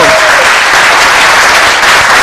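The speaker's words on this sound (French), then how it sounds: "Applaudissements pour elle." Studio audience applause on a televised café talk show, a loud, dense, continuous wash of many hands clapping that holds steady throughout.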